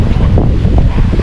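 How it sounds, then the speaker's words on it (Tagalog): Strong wind at sea on a fishing trip buffets the microphone in a loud, continuous low roar, with waves washing faintly beneath it. "Lakas ang hangin."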